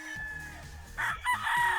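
Rooster crowing among breeding chickens, a single short crow rising after a quiet start, close and fairly faint, with no voices.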